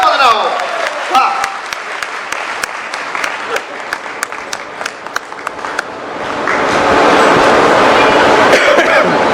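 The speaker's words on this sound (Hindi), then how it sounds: "एक बार जोरदार तालियां बजाने बच्चे के लिए" An audience applauds a child at a gathering of sadhus, with sharp claps scattered over background talk at first, then swelling into steady, louder clapping toward the end.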